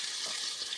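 Latkes frying in a pan, a steady dense hiss of sizzling oil, close and even throughout with no voices.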